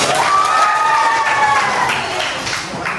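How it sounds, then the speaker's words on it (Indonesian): Applause and cheering from a classroom group of students, a steady wash of clapping close by with a few voices calling out over it. "Oke, tepuk tangan dulu."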